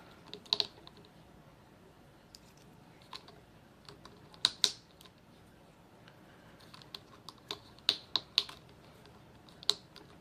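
Sharp plastic clicks snap in irregular bursts, some single and some in quick pairs, crisp and close against a quiet background.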